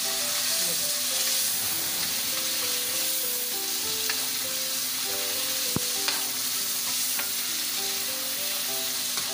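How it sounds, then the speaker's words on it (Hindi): Chicken karahi with ginger and green chillies fries in a pan, a loud, continuous sizzle with occasional sharp clicks of stirring, while a melody plays softly underneath. "अभी 3 से 4 मिनट हम इसको भूनेंगे अभी अच्छे से"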